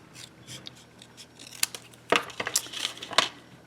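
Scissors snip through embossed card, starting with a few light, scattered cuts and building to a run of sharp, close crunching snips as the blades work across the card, with no speech.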